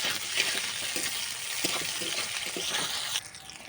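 Cumin seeds, chili, onion and ginger frying in hot oil, a close steady sizzle with light stirring clatter, slightly quieter near the end.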